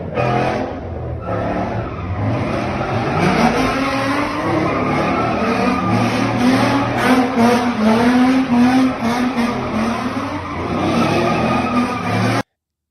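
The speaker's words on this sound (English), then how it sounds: "We got people driving loud cars, wheelies and whatnot, middle of the night." Loud cars revving and tires skidding at a late-night street takeover in California, engines roaring continuously with screeching tire squeals rising through the middle, dense and close throughout.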